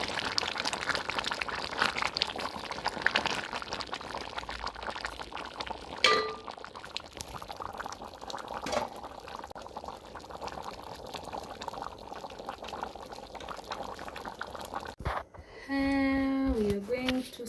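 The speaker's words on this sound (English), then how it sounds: "Beans are here cooking well" White cannellini beans boil in a covered pot, giving a low bubbling simmer with occasional clinks of glass and metal. A brief high ringing tone sounds near the end.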